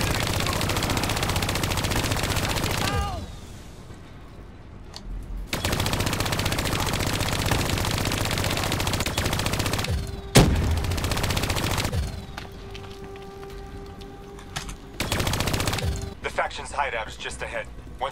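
Bursts of automatic gunfire blast at bats in the Black Ops 3 campaign, loud rapid rattling volleys separated by quieter gaps, with voices speaking in between.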